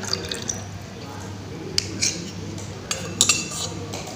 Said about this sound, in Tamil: இதை வந்து ஒரு சட்டியில் வடிகட்டிடலாம்.